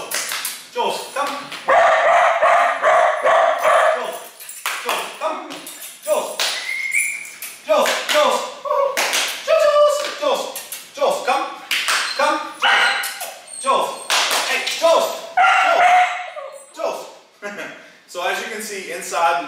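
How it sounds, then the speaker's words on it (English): An eight-month-old Doodle dog barks again and again, loud nearby barks and yips coming in uneven bursts with short pauses between them. "He enjoys barking."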